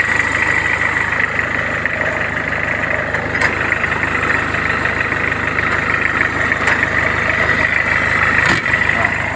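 A used classic Volkswagen car engine idling at a steady, even hum, close and continuous with a faint high whine, with no talk over it.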